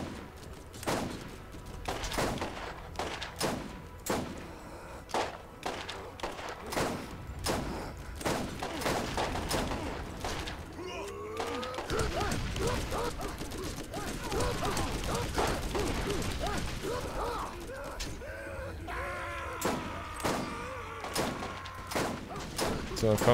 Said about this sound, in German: Ich schieße einfach nur in die Menge, ich treffe gar nichts